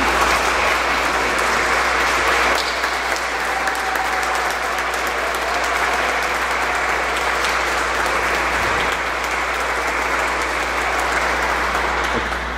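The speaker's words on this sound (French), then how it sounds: "On peut les applaudir, bien sûr." A church congregation at a Sunday Mass applauds the choir, steady dense clapping from many hands that fills the room evenly and continues without pause throughout.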